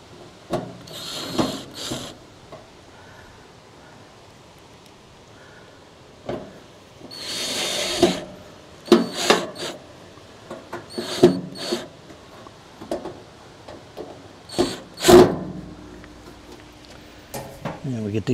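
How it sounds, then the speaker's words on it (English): Screws driven into the hopper of a Z-Grill 700E pellet grill, heard as several short bursts of a power driver whirring and clicking at close range, separated by pauses, with some handling clatter and no talk. "Now then we gotta get these two screws right in here."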